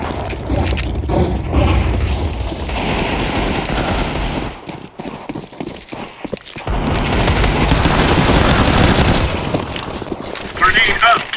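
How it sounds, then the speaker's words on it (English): Grenade and flashbang blasts in Counter-Strike 2, heavy booming explosions and rattling gunfire filling a busy firefight, with a brief quieter lull midway before the loud barrage resumes. "Grenade out. Deploying flashbang."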